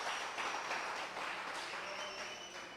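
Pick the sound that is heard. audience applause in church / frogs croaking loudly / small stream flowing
audience applause in church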